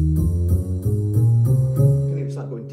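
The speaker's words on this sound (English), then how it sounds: "I've set this up with a bass with a ride cymbal on it" A Roland LX708 digital piano in split mode plays a bass line layered with a ride cymbal, giving deep, repeated bass notes with a bright, ticking shimmer on top, close and fairly loud.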